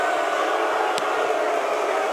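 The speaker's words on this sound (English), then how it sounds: "Oh, this crowd's just getting riled." Amateur welterweight cage-fight crowd roaring at a live MMA event, a steady wash of shouting and cheering from a packed arena at constant loudness, with no clear single voice standing out.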